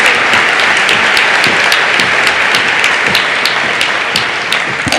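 A large commencement audience applauds steadily to welcome a speaker, a dense, loud, continuous wash of clapping that holds for several seconds before easing slightly at the end.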